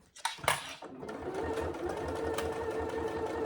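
Sewing machine stitching a saddle bag lining, starting with a few sharp clicks and handling noises before settling into a steady, rapid, close mechanical hum with rhythmic needle thumps.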